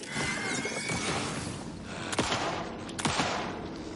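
Gunshots in the Alan Wake action game, with two sharp, close reports about a second apart over a busy bed of rattling, clattering game noise.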